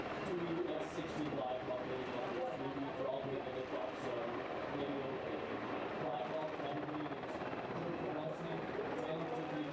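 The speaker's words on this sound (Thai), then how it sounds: "ด้วยเฮลิคอปเตอร์แบบ Black Hawk ของกองทัพไทยจำนวน 2 ลำ" Steady rotor thrum of two Thai Army Black Hawk helicopters overhead during a live-fire military exercise, a continuous loud churning drone with no pauses.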